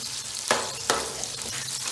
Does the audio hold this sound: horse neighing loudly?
no